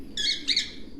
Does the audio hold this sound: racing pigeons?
yes